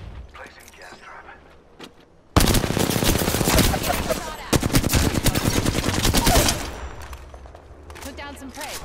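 Apex Legends gunfire opens with quieter game sounds and voiced callouts, then a loud sustained automatic burst roars for about four seconds with rapid repeated shots before fading back to ambient effects and speech.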